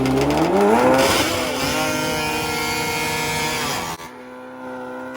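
A naturally aspirated two-stroke race machine screams through a fast lap at a motorsports park, its loud, near whine climbing in pitch as it accelerates, then abruptly cutting to a quieter, fading tone.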